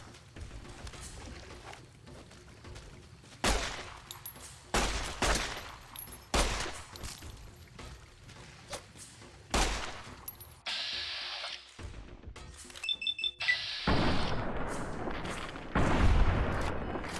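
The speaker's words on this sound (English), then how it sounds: "Who's shooting us?" Gunfire in Fallout New Vegas comes in repeated loud cracks and bursts at uneven intervals, some rapid and rattling, with booming impacts and a heavy sustained roar near the end.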